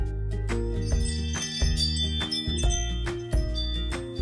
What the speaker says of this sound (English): and motion alerts sound like this